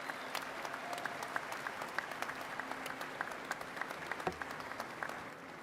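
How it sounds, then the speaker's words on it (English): An indoor audience at a union event for a new headquarters claps in a round of applause, a dense steady patter of many hands sustained throughout, fairly distant and even. "let's give one big round of applause for everybody here today"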